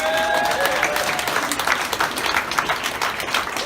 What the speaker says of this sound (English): please give Lydon a round of applause for a prosperous 9-year engagement.